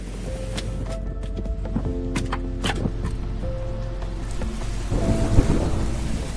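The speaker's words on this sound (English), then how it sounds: "When it rains, it rains, and when the wind comes, it's fierce." Rain falls steadily in the Welsh hills during a thunderstorm, with a dense hiss of drops on surfaces, crackling bursts, and a low rumble of thunder that swells toward the end.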